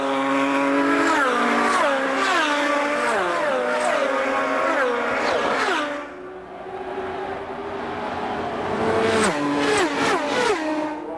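IndyCar race cars accelerating at the 1993 Indianapolis 500 on the restart, high engine notes climbing and shifting repeatedly as several cars pass, loud and close, then a short lull before more cars scream by.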